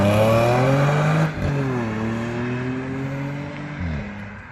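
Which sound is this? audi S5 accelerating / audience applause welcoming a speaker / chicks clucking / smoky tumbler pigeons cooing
audi S5 accelerating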